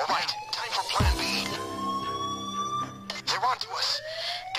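An electronic alarm wails in a Payday 2 heist at a hospital, its rising and falling tone sweeping repeatedly under gunfire-like bangs, game effects and overlapping voices shouting.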